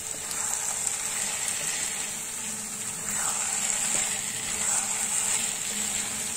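Pumpkin halwa with khoya stirred in a pan, a steady soft sizzle and scraping under a bright continuous hiss, fairly close, with no talk.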